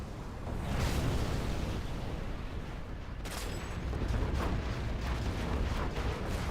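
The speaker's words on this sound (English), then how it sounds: "Oh, you saw the shells fall there." Artillery shells fall and explode during a video game battle on an aircraft carrier map, a continuous rumbling barrage of dense overlapping blasts that stays loud throughout, with no talking.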